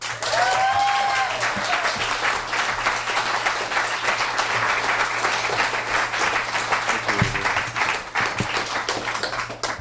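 An audience welcomes author Dave Zirin with sustained applause, many hands clapping densely and steadily, close and loud, with a brief whistle near the start.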